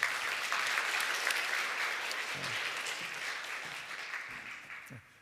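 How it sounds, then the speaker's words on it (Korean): A church congregation at a Sunday worship service in Bellevue applauds in encouragement as a member comes forward to give her testimony, a steady wash of clapping from many hands that slowly fades near the end. "우리 큰 격려의 박수 한번 부탁드리겠습니다"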